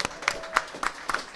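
Sparse, scattered clapping from a small podcast audience, a few irregular claps rather than full applause.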